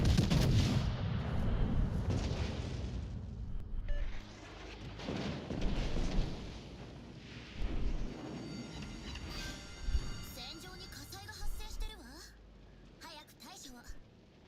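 Heavy naval gunfire booms from battleship guns in World of Warships Legends, a broadside duel with a Montana, with repeated deep blasts and rumbling impacts amid game effects, while a player talks over much of it.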